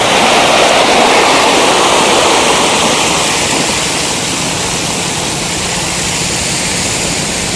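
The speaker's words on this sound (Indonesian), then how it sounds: "Ombaknya sangat besar." Big ocean waves roll onto the beach at Cikembang in Sukabumi, a continuous loud roaring wash of surf that swells at the start and then holds as a broad, steady rush with no voices.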